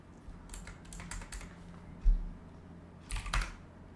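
Typing a command on a computer keyboard: close, clattering bursts of keystrokes in two clusters, quick taps early on and a shorter flurry near the end, over a low steady room hum.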